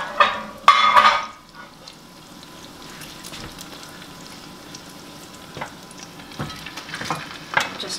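Fried corn cooks in a cast iron skillet: a burst of close clattering pan handling opens, then a faint steady sizzle crackles on with occasional scrapes and taps, and no one speaks.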